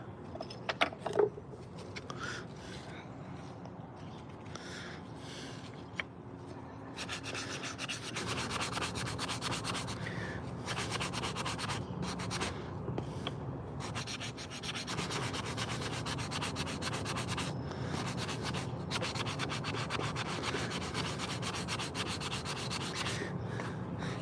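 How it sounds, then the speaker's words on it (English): Continuous scratchy sanding rubs against a carved wooden spoon in steady back-and-forth strokes, close and moderately loud, with no voices. "I probably go excessive on the sanding"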